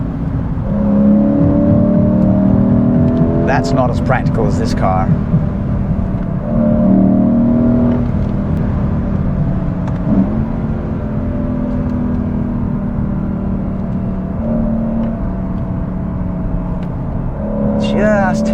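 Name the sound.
Lexus IS 500 accelerating with tyres starting to slip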